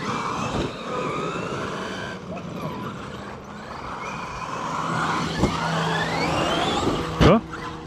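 A Traxxas XRT RC monster truck with a Castle 1721 1250kv motor revs in rising and falling electric whines outdoors, the motor climbing in pitch several times with a sharp burst near the end, while people talk nearby.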